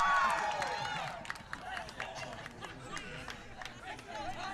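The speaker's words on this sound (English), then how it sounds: "Crowd cheering here" A crowd cheers and chatters at a high school baseball game between the Huntsville Hornets and Whitehouse Wildcats, a steady, moderately loud murmur with scattered claps and shouts and a commentator talking over it.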